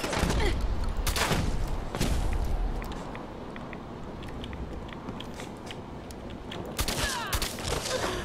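Gunfire in the Fallout 4 video game: dense bursts of shots crackle and pop at the start, ease into a quieter stretch with scattered reports, then flare up again near the end.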